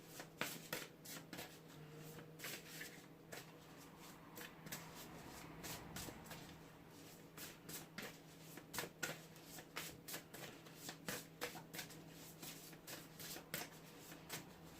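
Tarot cards being shuffled by hand, giving soft, rapid riffling and flicking bursts that repeat steadily at close range, fairly quiet and with no talking.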